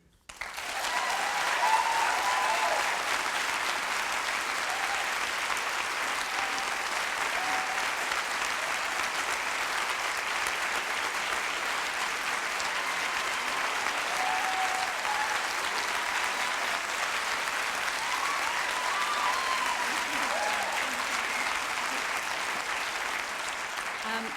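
Long, unbroken applause from the audience at a public theatre meeting, a broad steady roar of clapping that starts abruptly and stays level for over twenty seconds, with faint voices in the room beneath it.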